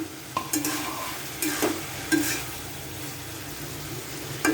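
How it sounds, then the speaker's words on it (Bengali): Boiled potatoes being stirred in a frying pan, a low continuous sizzle broken by several scraping strokes of a spatula and light clinks against the pan, heard close with no talk. "আমার আলুটা সম্পূর্ণ কষানো হয়ে গিয়েছে, সিদ্ধ হয়ে গিয়েছে।"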